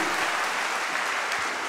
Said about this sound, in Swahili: Na washindi wangempigia Bwana makofi mengi